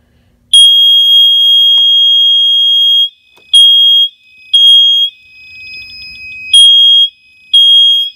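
A fire alarm blares a loud, steady high-pitched tone during a bedroom system test, sounding in several long bursts separated by brief pauses, with a faint lower beeping pattern in one gap.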